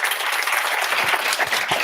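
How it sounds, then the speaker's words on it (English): Audience at a Python Christmas meetup gives a burst of applause, dense, steady clapping from a roomful of people, close and continuous throughout. "Big applause."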